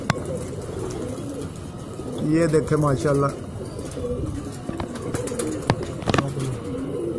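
Pigeons coo in soft, throaty bursts, loudest near the middle and again toward the end, while someone talks over them outdoors.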